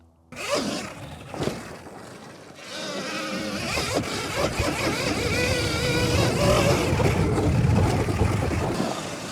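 A Surron Ultra Bee electric dirt bike fitted with a Ventus Aetos 76kW controller, riding off-road with a rising whining motor drone and rushing wind noise, loud and close to the rider.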